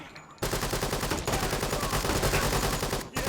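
Sustained rapid automatic gunfire from the tactical shooter Door Kickers 2 rattles on for nearly three seconds after a brief lull, dense and loud, then cuts off abruptly near the end.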